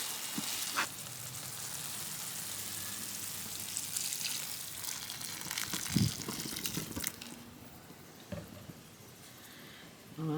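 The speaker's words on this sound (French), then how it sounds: "je rajoute mon bouillon. Il est bouillant." Boiling-hot broth poured into rice in a pan while cooking outdoors, a hissing, bubbling sizzle that rises and falls for several seconds, with a sharp clatter near the middle and soft rustling behind it.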